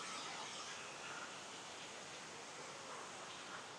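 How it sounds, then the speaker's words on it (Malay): Small forest stream flowing steadily, a continuous broadband wash of running water with no breaks, fairly faint and heard alone. "Safia, there's a river also"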